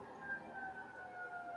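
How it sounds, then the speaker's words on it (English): Emergency vehicle sirens wail outside in Ocean City, faint and distant, a thin steady wavering tone over a brief quiet background. "Sorry about the sirens."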